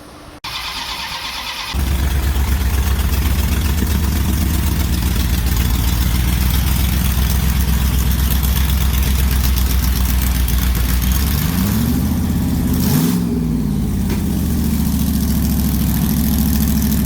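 A blown 440 V8 in a Plymouth race Barracuda cranks and fires almost at once, then runs loud and rough at a steady idle, with a brief rev rising and falling near the end.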